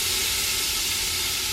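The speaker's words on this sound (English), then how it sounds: "So our pot is sizzling right now and it's ready for our onions." A hot pot sizzling on the stove before onions go in, a steady loud broadband hiss, close and unbroken, with no talking.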